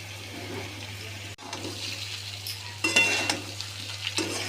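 Potato poha being stirred in a wok, a low continuous hum beneath scraping and rustling that grows louder in the second half with sharp clatters of the spoon.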